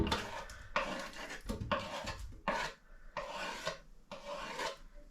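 A pepper grinder cranking whole peppercorns gives repeated close, raspy grinding bursts of about half a second each, separated by brief pauses, with no talking.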